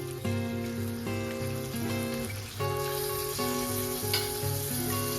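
Spices including asafoetida sizzling in a pan for Gujarati khichdo: a steady frying crackle and hiss running beneath rhythmic tonal music, with no talk.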